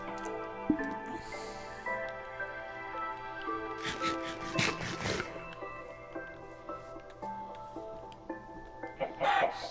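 A chicken in the Minecraft video game on PlayStation 4 clucks and crows a few times over steady game music and background sounds, with brief louder bursts midway and near the end.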